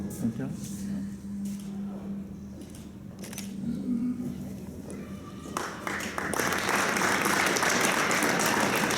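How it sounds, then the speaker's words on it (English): An audience at a celebration and gift handover event claps. The applause starts as lighter scattered clapping under a speaking voice, then swells into full, loud, sustained applause. "Another round of applause to all the partners"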